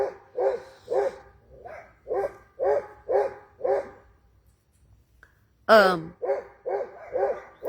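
A dog barks repeatedly in a steady rhythm, loud and close, pausing briefly before a sharp yelp and more barks.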